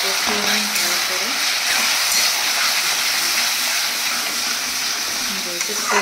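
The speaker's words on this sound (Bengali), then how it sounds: "যেহেতু চর্বি আছে সেই কারণে ভালো করে কষিয়ে নিই।" Fatty chicken pieces stir-fried with chilies in a pan sizzle loudly and steadily, with a continuous hiss broken by faint stirring scrapes.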